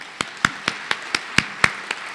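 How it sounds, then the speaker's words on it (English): Sparse applause at a college pinning ceremony: a few distinct, evenly spaced hand claps, fairly close and clear, with no talking. "Let's give them another round of applause."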